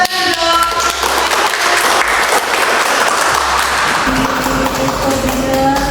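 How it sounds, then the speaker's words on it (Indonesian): Audience applause fills a podcast studio during a company special episode, a dense steady wash of clapping hands that stays loud and even throughout with no talk over it. "Tepuk tangan dong."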